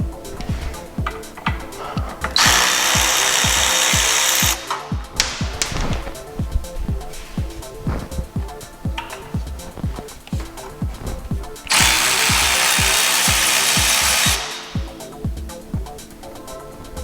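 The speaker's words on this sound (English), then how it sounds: "So next thing I'm going to do is I'm going to remove the brake caliper and the bracket in one piece" Work on a 2006-2011 Honda Civic brake caliper and bracket for removal brings two long, loud bursts of a power tool, likely an impact driver, between irregular metallic clanks, ratcheting and tool handling close by.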